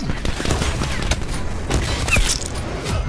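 Thresher scorestreak gunfire in Black Ops 4 rattles in dense, continuous bursts with booming impacts, loud and near throughout the game audio.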